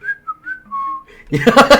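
Two tones from a whistle candy come first, a thin wavering pitch that steps up and down across several short notes. Bright, noisy chatter and laughter then break in and drown it out.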